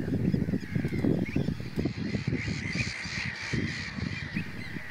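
Gulls on a breeding island by a New Forest sea wall in May, raising their young: a busy, loud chorus of harsh, overlapping calls repeating throughout, with no talking.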